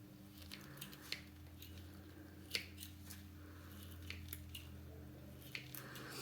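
Snips trimming the weak necks of a dahlia tuber clump, giving a few faint, scattered snipping clicks spaced irregularly over a steady low hum, close by with no talk.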